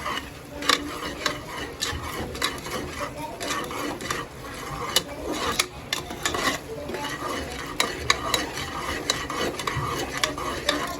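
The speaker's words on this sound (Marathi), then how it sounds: "आता आपण हे मिक्स करून घेऊया" Salted food being stirred and mixed in a frying pan, with a busy run of spatula scrapes and clinks over a soft sizzle, continuous and close, with no talk.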